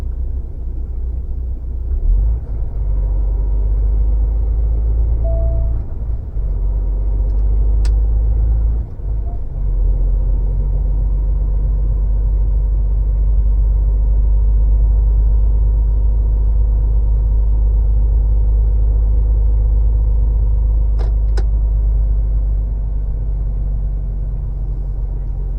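Car cruising on a French national road toward the Bordeaux ring road, a steady, loud low engine and road rumble from inside the cabin that continues throughout with faint tyre noise and a few small knocks.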